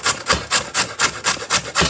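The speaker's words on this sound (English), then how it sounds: "while I'm grating the carrot" A carrot being grated on a hand grater in a home kitchen, eight steady rasping strokes about a quarter second apart, close and fairly loud with no talking.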